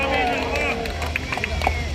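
A concert audience at the Jom Heboh event in Angsana Johor Bahru claps for themselves, a brief burst of crowd applause and chatter that thins out toward the end, with a voice heard over it.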